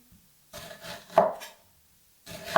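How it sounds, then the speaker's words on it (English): A knife chops half a red onion into slices on a board for a slow-cooked Mediterranean lamb shank, giving a few separate close, crisp cutting strokes with brief pauses between them. "So I'm just going to chop half a red onion"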